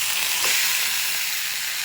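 Grated coconut fries in a hot pan for a Bengali taro-leaf and prawn dish, giving a steady, dense sizzle with a soft hiss and a faint stir, no voices.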